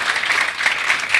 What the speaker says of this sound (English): would you like to give a clap to the Gharwapsi?